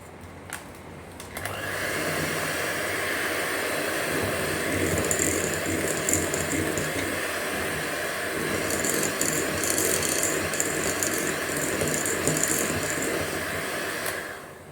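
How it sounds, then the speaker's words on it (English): An electric hand mixer whips cream cheese frosting for a red velvet cake, a steady loud motor whir with a rattling beater texture that runs continuously for most of the stretch after a brief quiet start. "just give it a little jiggle before beating it, before whipping it basically, right? And now you can switch it on."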